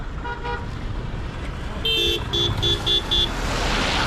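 Busy national highway traffic at Banihal in Kashmir: a constant roadway rumble with a short double toot early, then a longer run of repeated honks from nearby vehicles.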